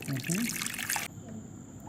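Water pours and trickles briefly in a home kitchen during bread making, a short splashy burst with voices over it before it stops.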